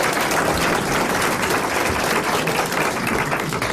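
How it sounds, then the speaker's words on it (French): A crowd applauds steadily, dense clapping filling the whole stretch at a loud, even level with no voices on top. "Monsieur Castelli, que je vous demande d'applaudir."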